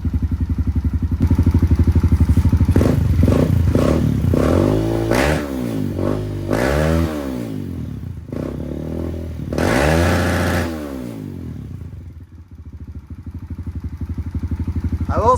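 A Kawasaki KLX140 dirt bike fitted with TB cams idles close by, then revs up in several sharp throttle blips with rising and falling pitch before settling back to a steady, slightly clattery idle.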